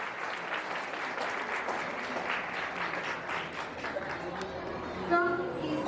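Applause rises from parents for two teachers at a school annual day, a steady crackle of clapping with crowd murmur throughout and a few shouts near the end.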